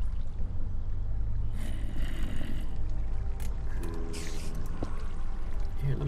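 Water flowing in a Minecraft-style block game, a steady splashing and pouring wash that runs continuously and fairly close, with a few sharper clicks and knocks near the end and no speech.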